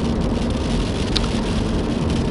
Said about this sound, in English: We're getting some hail.